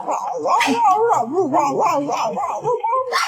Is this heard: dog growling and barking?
yes